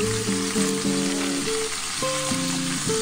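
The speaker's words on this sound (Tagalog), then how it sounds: "Prito muna natin ang bahagya ang ating chicken legs." Steady crackling sizzle of chicken legs frying in hot oil for chicken adobo, continuous and close, with a low tonal hum running underneath.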